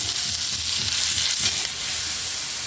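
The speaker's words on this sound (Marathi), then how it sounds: "सगळं व्यवस्थित भाजून घ्यायचे आहे मसाला" Ginger, garlic cloves, green chilies and sliced tomatoes frying for a masala, a steady close sizzle with faint stirring scrapes throughout and no talk.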